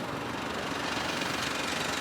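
A Smart car engine runs steadily at close range, a continuous rough, buzzing mechanical drone with no pauses.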